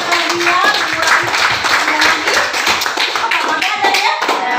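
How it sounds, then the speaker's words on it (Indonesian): Classroom students clapping together, loud uneven bursts of hand claps filling the room, with voices mixed in among the clapping. "Kita berikan tepuk tangan untuk Beckham karena dia mengurangi"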